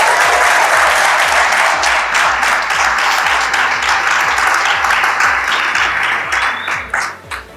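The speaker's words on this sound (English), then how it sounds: "we would like to give one of our director, Ms. Polly, a resounding applause for that" Loud, sustained audience applause at a school secondary graduation ceremony, dense overlapping claps filling the hall for several seconds before thinning out near the end.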